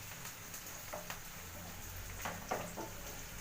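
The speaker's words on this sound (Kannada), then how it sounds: "ಚೆನ್ನಾಗಿ ಫ್ರೈ ಆಗಬೇಕು" Onions frying in a new kadai without tomato, a steady low sizzle with a few soft stirring scrapes, close and fairly quiet, no talking.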